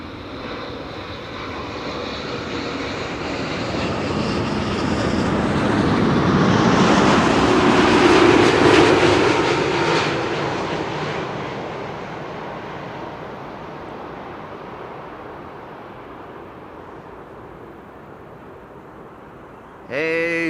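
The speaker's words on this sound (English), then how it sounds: "Behind that, a Dreamliner from United, arriving from San Francisco" A United Boeing 787 Dreamliner, arrived from San Francisco, lands at Amsterdam Schiphol, its jet roar rising to a loud peak midway and then trailing off into a long, fading rumble.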